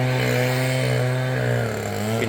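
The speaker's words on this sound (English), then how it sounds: "giving that 9010 blower hell" A Stihl-style 9010 backpack leaf blower running hard on a property during lawn work, a loud, steady engine drone with a strong tonal whine that stays close and constant throughout.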